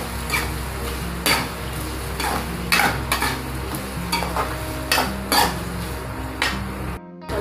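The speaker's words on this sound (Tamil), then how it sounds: "வெங்காயம் நல்லா வதங்கணுங்க." Onions sauté in a pan for rava upma while a spoon stirs them, giving a steady background sizzle broken by regular scraping and clinking strokes against the metal pan, close and clear, with no talking.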